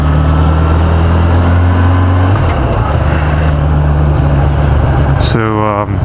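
Kawasaki Ninja ZX10R on its stock exhaust, ridden through city streets, gives a steady, loud engine drone that holds its pitch, then climbs sharply in revs near the end.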